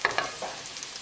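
Lamb chapli kebab patties frying in a pan over a low gas flame, giving a soft steady sizzle with a few faint clicks and scrapes close by, no voices.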